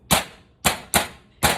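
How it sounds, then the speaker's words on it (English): Cinnamon pounded in a mortar and pestle, four sharp, heavy thuds spaced about half a second apart, close and loud with a short ring after each blow. "pound at it first, in your mortar and pestle"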